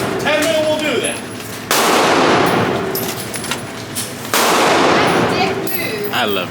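Pistol shots from a 10 mm handgun at an indoor shooting range, two loud sustained bursts of blast and reverberation separated by quieter stretches with background chatter and clatter.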